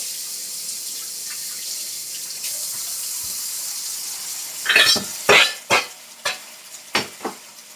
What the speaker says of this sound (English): All right, so I'm going to add some water.